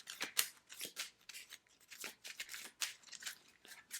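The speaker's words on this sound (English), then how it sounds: "Have to shuffle." Crisp riffling and snapping of cards being shuffled, several quick bursts in a row, close by with no talking.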